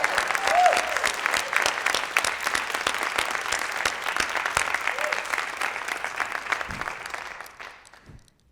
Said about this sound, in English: let's give her a really big round of applause